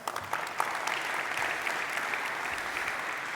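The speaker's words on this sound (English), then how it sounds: "So could I have an applause for them?" A tech conference audience breaks into a dense, sustained wash of applause, many hands clapping together at an even level from just after the start to the end.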